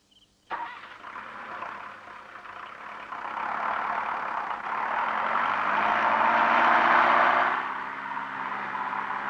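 A vehicle engine runs at a steady idle, starting abruptly and holding a continuous low rumble that swells slightly in the middle before easing off, with no talking.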